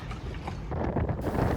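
Strong wind of about 35 knots batters a sailboat at sea, a loud, buffeting rush of gusts that strengthens over the short stretch and drowns out everything else.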